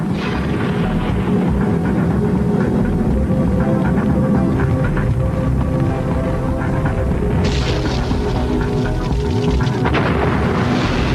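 Rocket explosions at the Baikonur Cosmodrome, a loud continuous roaring rumble with heavy low booming that swells and surges throughout, without any talk.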